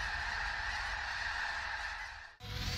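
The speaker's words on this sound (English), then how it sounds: "Lesser snow geese can live 20 years" A dense chorus of lesser snow geese honking continuously at close range during spring, loud and steady, briefly dropping out near the end before resuming.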